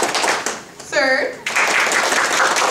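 Audience at a She-Ra fan panel at MiyakoCon 2019 clapping to vote for the third contestant, a short burst of crowd applause mixed with cheering and a voice, with talk over it.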